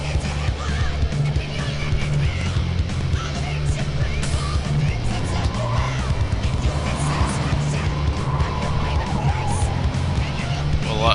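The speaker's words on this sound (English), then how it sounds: "We'll let the auto gearbox just fly through the gears like it's crazy." A truck engine in a driving video game drones steadily while an automatic gearbox runs up through the gears, loud and continuous, with someone talking over it.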